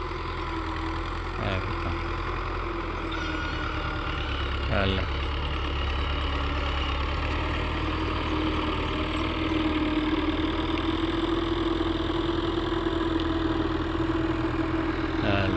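A tractor engine idles with a steady low rumble throughout, a few faint knocks and clanks along the way, and no clear talking.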